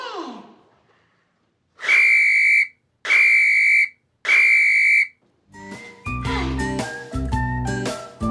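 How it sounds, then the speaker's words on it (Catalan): A whistle blown by a clown during a children's show gives three loud, long, evenly spaced blasts, each about a second, before music starts. "El xiulet!"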